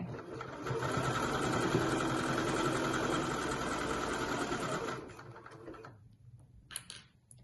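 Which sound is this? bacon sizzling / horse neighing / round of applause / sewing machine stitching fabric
sewing machine stitching fabric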